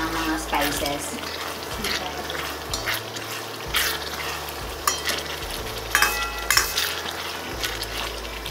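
Tomatoes frying and softening in a pan for an Indian masala dish, a steady sizzle with occasional stirring clatter running the whole way, close and moderately loud, with no talk over it.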